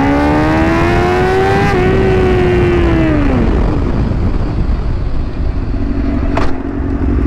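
A motorcycle at speed on a road to a dead end, its engine screaming loud and close with a steady high note that drops away as the rider brakes hard, leaving rushing wind noise.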